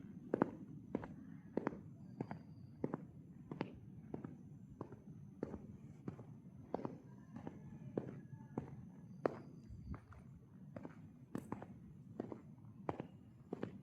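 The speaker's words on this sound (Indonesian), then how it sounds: "Di bawah jalan kaki begini nih." Footsteps of someone walking, recorded on an iQOO Z11 phone: a steady series of distinct, evenly spaced steps, close and clear over a quiet low hum, with no talk.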